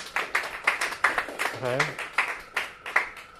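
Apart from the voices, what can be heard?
audience applause for a performer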